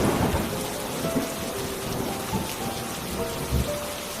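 Steady rain pours down in a jungle thunderstorm, with low rumbles of thunder rolling underneath and a heavier thump near the end, continuous and fairly close.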